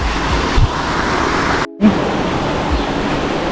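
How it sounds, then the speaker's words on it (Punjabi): A small canal rushes through a village in Italy, giving a close, constant roaring wash of water that is interrupted by one brief dropout midway, with no one speaking. "ਇਧਰੋਂ ਬਹੁਤ ਜ਼ਿਆਦਾ ਆਵਾਜ਼ ਆ ਰਹੀ ਨਹਿਰ ਦੀ"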